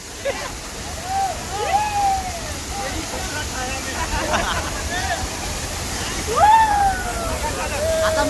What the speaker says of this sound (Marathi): धबधबे बघा जाऊन